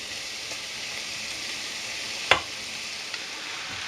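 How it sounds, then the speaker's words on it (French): Rice sizzling steadily in a sauté pan alongside mushrooms for a chicken fricassee, a continuous bright frying hiss, with one sharp utensil clink partway through. "on va commencer à introduire le riz dans la sauteuse"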